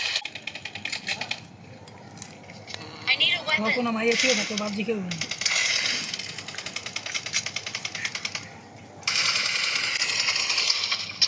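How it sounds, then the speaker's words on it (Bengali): PUBG video game sounds play in the background as bursts of rapid, rattling gunfire-like clatter, fairly loud, with a stretch of talking in between. "সাইড ব্যাকগ্রাউন্ড সাইডে যে পাবজি সাউন্ডটা শুনতে পাচ্ছেন, ওই একটা পাগল খেলতেছে"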